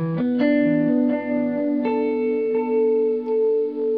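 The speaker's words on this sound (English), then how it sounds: "you can get some super cool tape tones out of this thing" Sustained electric guitar chords ring out through a warm, echoing tape-style delay from a Strymon Timeline pedal, each strum trailing soft repeats that smear into a wobbly, saturated wash.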